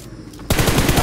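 Rapid burst of automatic gunfire in a Dragon Ball Z event battle-royale video game, starting abruptly after a quieter stretch and continuing loud and close as a rattling string of shots.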